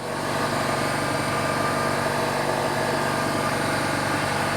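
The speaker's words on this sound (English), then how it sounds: "Now I know the air compressor is running, so I should be speaking loud enough to overtalk the air compressor" An air compressor runs in a classic-car body workshop, a steady loud mechanical drone with a constant hum and rapid pulsing that never varies, with no talking.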